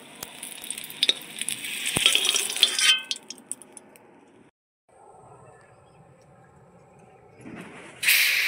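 Potatoes fry in hot oil in a wok with a bright, hissing sizzle that runs loud for a few seconds, drops away to near quiet, then surges back at the end.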